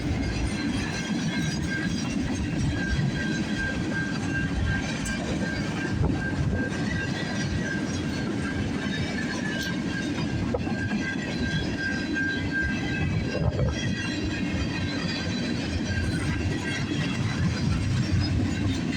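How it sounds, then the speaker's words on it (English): A CN freight train made up of many flat cars rolls past on a snowy morning, a loud continuous rumble of wheels with rhythmic clickety-clack and a thin high squeal of wheels running throughout. "The train's got lots of flat cars."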